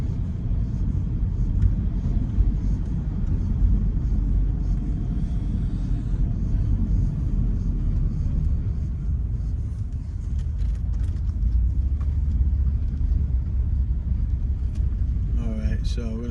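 A car driving through Jackson, Mississippi, past a park, with a steady low road rumble and engine drone throughout, close and continuous, and a brief tonal sound near the end.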